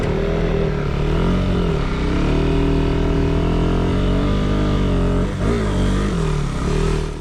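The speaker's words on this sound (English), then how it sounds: "This engine likes to rev, and it took a little getting used to." A KTM 390 Adventure motorcycle's single-cylinder engine revs up and down repeatedly, loud and close, rising and falling in pitch with no talking.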